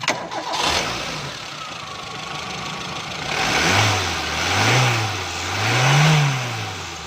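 A car engine cranks and catches after a distributor repair and settles into a smooth idle, then revs up and down three times in even swells toward the end.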